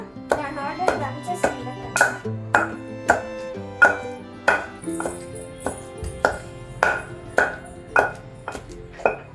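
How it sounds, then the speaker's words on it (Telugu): Chili spice paste being pounded in a stone mortar, a steady series of sharp knocking thuds roughly every half second, close and clear with no talk. "దానికోసం కారం దంచుతున్నారా"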